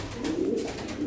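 Sarı Lahore pigeons coo softly in low, throaty murmurs, close by and fairly quiet, with gentle repeated rolling calls.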